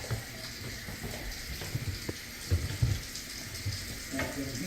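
Hot water runs from a tap during a rental unit inspection, a steady hiss and splash with faint clinks underneath, heard fairly close and alone.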